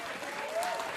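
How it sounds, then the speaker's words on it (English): Concert audience applauding at a live show, a short burst of steady clapping at moderate distance, with a brief whistle-like tone over it. "One more time, round of applause,"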